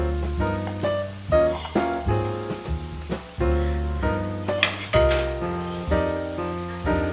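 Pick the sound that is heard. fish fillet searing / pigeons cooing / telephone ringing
fish fillet searing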